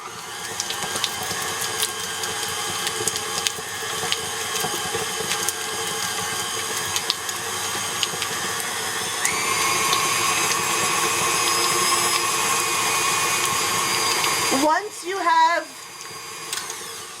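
Electric mixer creaming softened, cut-up butter for gingerbread cookie dough, a steady whirring motor running continuously at moderate loudness before stopping near the end.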